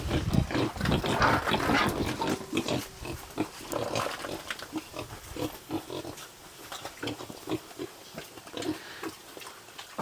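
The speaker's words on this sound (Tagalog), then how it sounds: "Snack sa ating native pig." A native pig eats organic feed close by, with loud grunts, chewing and snuffling that come thickly at first and then thin into scattered bursts, and no talk.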